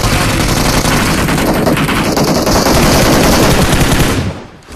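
Rapid automatic gunfire from the mobile shooter Battlegrounds Mobile India rattles in a loud, dense, continuous burst, then cuts off abruptly near the end.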